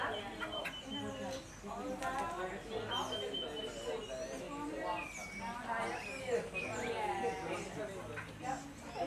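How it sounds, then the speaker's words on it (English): Busy murmur of many people talking from a coachload of birders sitting in deck chairs beside bird feeders in Costa Rica, a steady crowd chatter with occasional bird calls mixed in. "you can hear the noise of a coachload of American birders who are all sat in the open in deck chairs next to the"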